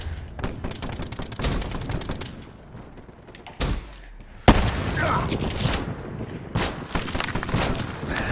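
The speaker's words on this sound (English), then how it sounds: "Now I'm gonna use a sniper." Sniper rifle in Black Ops 3 firing amid loud, dense gunfire and mechanical clatter, with a rapid burst of shots early, then heavy single cracks and bursts in a busy, close game mix.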